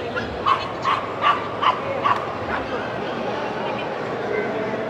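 Dogs bark at a large indoor dog show at HITEX in Hyderabad, with about five quick, loud barks in the first half rising over a steady crowd murmur that continues to the end.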